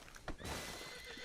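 A horse in Red Dead Redemption 2 gives a short, loud neigh close by, a single whinny rising over a brief hoof thud.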